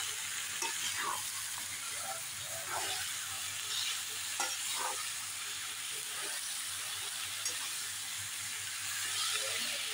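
Boiled bharangi leaves sizzle and fry in a hot kadhai while being stirred, giving a continuous crackle with scraping stir strokes throughout and no talking.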